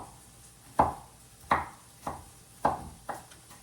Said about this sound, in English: I'm not a professional chopper, so I'm just trying to get these as small as I can.